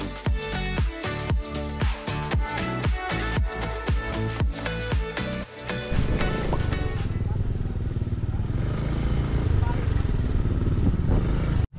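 A motorcycle engine runs up close at Sugba Lagoon Port in Siargao, rhythmic pulsing revs for several seconds, then settling into a steady, rougher drone.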